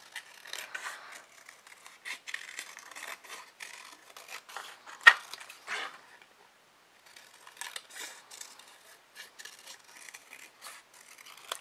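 Scissors snip through fabric while cutting out pattern pieces for a handmade rainbow fairy kit, giving soft repeated rasping cuts in short bursts with a brief pause midway, close and quiet with no talking.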